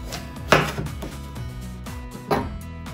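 A kitchen knife cuts into a whole melon along its length, giving two crisp crunching slices about two seconds apart over soft background music.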